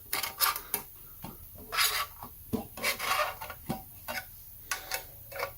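A metal opener pries up the lid of a paint can, giving a series of close scraping rasps and sharp ticks in uneven bursts separated by short quiet gaps.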